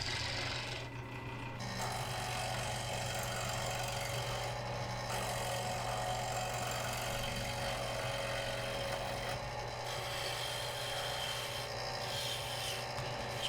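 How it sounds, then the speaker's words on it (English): A carbide-tipped lathe tool cuts into spinning red oak while a lathe turns a tool handle, giving a steady, continuous close-up rasping scrape with a constant motor hum underneath, running unbroken throughout. "It's cutting through that red oak like butter."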